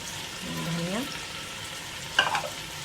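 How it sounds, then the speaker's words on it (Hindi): Oil sizzles steadily in a pan with frying chillies, a few sharp pops and crackles bursting through near the end, and a brief faint voice early on. "हमारी मिर्चों की भी फटने की आवाज़ें आ रही हैं"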